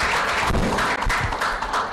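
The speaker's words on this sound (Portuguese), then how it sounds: "Uma salva de palmas." Audience applause at a political debate event rings out as a loud, dense wash of clapping throughout, close and continuous.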